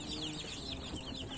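Soft, high peeping from a newly hatched chick fresh from an incubator, repeated in quick little calls over faint clucking nearby.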